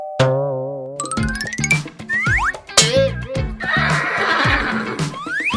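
A horse neighs loudly in a long, wavering whinny at a kids' game centre, followed by springy boings, clinks and quick electronic effects that suggest a toy or ride.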